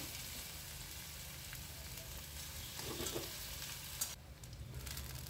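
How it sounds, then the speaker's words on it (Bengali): A crushed whole onion frying lightly in oil for a fish-head and bottle gourd dish gives off a soft, even sizzle, fairly faint, with a single clink near the end. "পেঁয়াজটা হালকা করে একটু ভাজবো"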